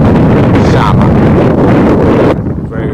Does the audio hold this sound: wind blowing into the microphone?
yes